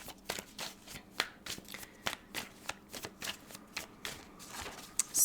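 Tarot cards are shuffled by hand in a series of quick, crisp riffling bursts and soft slaps, close and fairly quiet, repeating in an uneven rhythm with no speech.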